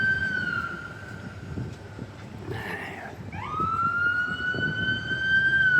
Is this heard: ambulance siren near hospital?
yes